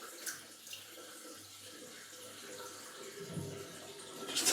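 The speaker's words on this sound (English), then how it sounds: "Let the water out." Water draining from a sink gurgles and trickles steadily at a moderate level, with a louder splash building near the end.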